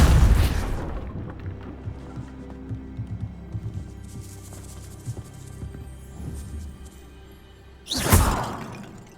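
Depulso force spell cast in the video game Hogwarts Legacy: a loud whooshing boom bursts at the very start and again near the end, with quieter game ambience and rumbling between.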